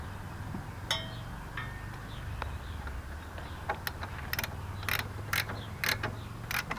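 Screws being snugged down by hand on a Jeep Wrangler TJ headlight, giving a series of close ratcheting clicks and metallic creaks that grow busier toward the end over a steady low hum.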